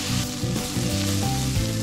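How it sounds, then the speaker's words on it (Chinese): Chopped onions sizzling as they are stir-fried in a round pot over medium-low heat, a loud close frying hiss with clattering stirring strokes repeating in a quick rhythm. "直接使用圆锅开中小火，加入切好的洋葱，持续翻炒到洋葱金黄"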